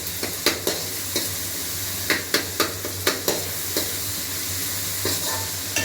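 Onions and tomatoes frying in a pan, with a steady sizzle and a series of sharp utensil clicks and scrapes against the pan. The scraping comes in irregular bursts, loudest near the start and the middle.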